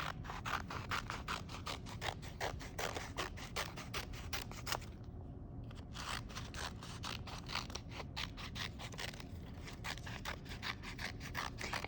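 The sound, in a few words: scissors cutting stacked paper into long strips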